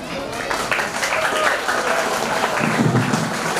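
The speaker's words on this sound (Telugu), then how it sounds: "చప్పట్లు కొట్టారు." An audience applauds at a retirement ceremony with sustained, dense clapping from a crowd indoors, fairly loud, and voices heard faintly alongside.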